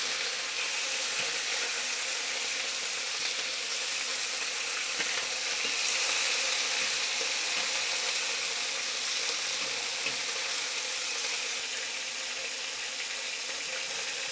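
Beef pieces sizzle steadily in a hot wok as they are stir fried, a loud continuous hiss with faint scrapes of stirring throughout.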